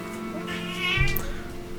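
A single insistent meow from a house cat, close and clear, with a steady background hum.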